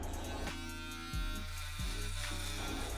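An electric hair trimmer buzzes steadily up close during a self-administered taper haircut on afro-textured hair, its hum dipping and shifting in pitch as the blades press into the hair, with no talking.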